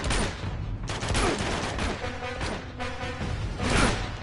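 Gunfire in Uncharted 2 fills the whole stretch, dense bursts of shots rattling close and continuous, with rapid repeated reports and no clear speech.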